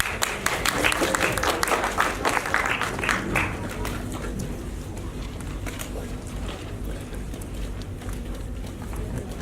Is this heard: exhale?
no